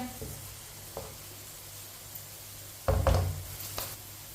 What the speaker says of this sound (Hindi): मटर को भी 2-3 मिनट के लिए मैंने फ्राई कर लिया